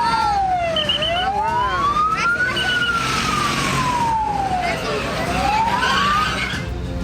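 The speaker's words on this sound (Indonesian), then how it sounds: "petugas menerjunkan 16 unit mobil damkar" Fire engine sirens wailing loudly in repeated rising and falling sweeps as trucks head to a burning garment factory in Cirebon, with street traffic noise underneath.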